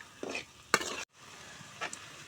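Chicken skin with ground garam masala being stirred in a pan, a quiet sizzle with a couple of short scraping strokes and a brief silent gap.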